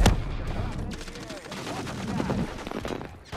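Rapid gunfire in a Call of Duty match, bursts of sharp shots over a busy, noisy mix, fairly loud, with a voice speaking briefly in between.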